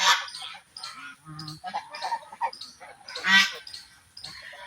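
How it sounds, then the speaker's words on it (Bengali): Several domestic geese grazing on grass beside the Chitra River give repeated nasal honks, some very close and loud, others overlapping farther off, with quiet outdoor background between calls. "এই হাঁসটা একদম আমার সামনে, একদম আমার কাছ থেকে 1 হাত দূরে আছে। এখানে অনেক রাজহাঁস।"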